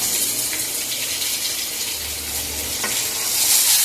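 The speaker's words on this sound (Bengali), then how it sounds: "এবার একটু ভাজা ভাজা করে নেব" Onion, grated coconut and chickpeas fry in a pan while pumpkin leaves are cooked, giving a steady soft sizzle with faint stirring scrapes at moderate, even loudness and no talking.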